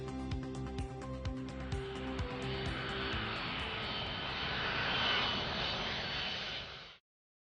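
An airplane engine roars through a takeoff sound effect, starting with a rhythmic propeller-like throb and swelling into a loud, broad rushing drone that cuts off abruptly at the end.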